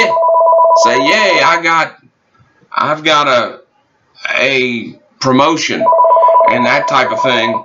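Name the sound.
telephone ringing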